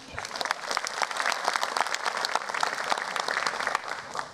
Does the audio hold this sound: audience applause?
yes